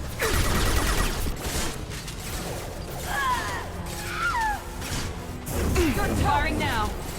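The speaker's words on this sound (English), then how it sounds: "Firing an impact shot." Weapon fire and biotic impact blasts from the shooter Mass Effect 2 on Insanity difficulty, with bursts of gunfire, whooshes and crashes amid in-game character voices calling out during combat.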